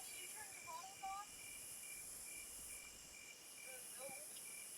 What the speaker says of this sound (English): The crickets. The crickets.